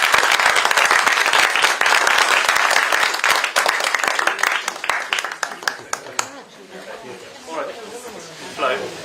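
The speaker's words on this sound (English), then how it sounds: "A round of applause," Audience applause at a climate strike event in Davos, with dense clapping that thins out and fades toward the end, mixed with crowd chatter.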